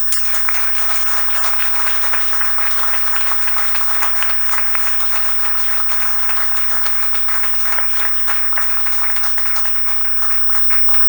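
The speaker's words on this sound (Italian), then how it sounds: "2 applausi ben distinti, uno per i relatori, per favore" An audience at a talk gives sustained applause for the speakers: dense, even clapping from many hands that carries on steadily for about eleven seconds with no voices over it.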